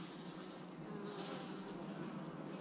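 Honeybees buzz in a dense, continuous hum during a hive inspection, steady and close but faint, with no talking.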